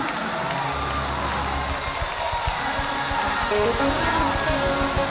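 Church congregation clapping along in steady rhythm during a lively worship service, loud and continuous with crowd noise and voices mixed in.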